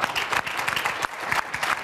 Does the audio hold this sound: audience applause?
yes